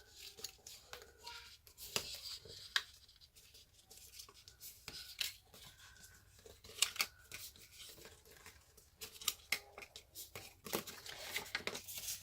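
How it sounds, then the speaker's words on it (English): Paper being folded along score lines and burnished for a notepad holder craft project, soft close rubbing and scraping strokes with occasional crisp crinkles, quiet and without speech. "We are going to fold and burnish our score lines."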